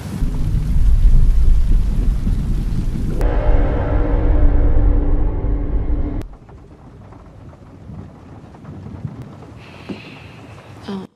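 Heavy rain pours with rolling thunder, loud and dense for several seconds before cutting abruptly to a quieter, muffled indoor hush with faint rain.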